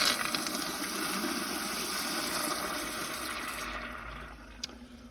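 A 2004 American Standard Cadet pressure-assist toilet flushes with a loud, forceful whoosh of rushing water that stays steady, then cuts off abruptly near the end and leaves a quieter refill trickle.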